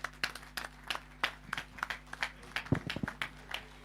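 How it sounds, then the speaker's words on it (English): Scattered, sparse clapping at a political stakeholders meeting, a few attendees striking hands irregularly in separate distinct claps over a steady low electrical hum, fairly faint and distant. "A round of applause, please."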